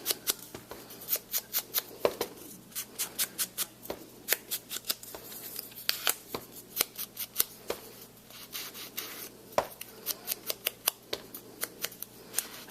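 Scissors cut a piece of card for handmade card crafting, giving a steady run of short, crisp snips in an even rhythm, close and quiet, with no talk.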